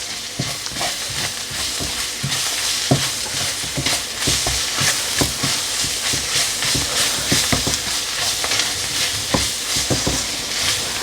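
Chili, turmeric and coriander powder being stirred in a hot pan for a prawn and mushroom bhuna curry: a loud continuous sizzle and hiss with repeated spoon scrapes and taps, and no talk.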